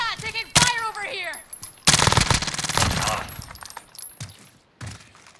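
Bursts of video game gunfire pop and rattle loud and close, with rapid automatic shots over a stretch, while an excited voice talks at the start and between volleys.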